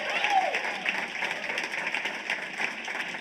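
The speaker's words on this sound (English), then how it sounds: "That deserves a round of applause." A conference audience at a tech ecosystem event applauds, producing a steady, even wash of many hands clapping at a moderate distance for a few seconds.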